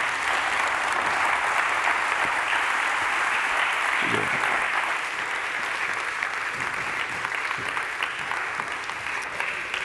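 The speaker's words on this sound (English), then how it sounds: "Give him a good warm applause." Warm applause from a conference audience at a session on ocean approaches, loud continuous clapping sustained for about ten seconds, close and dense throughout.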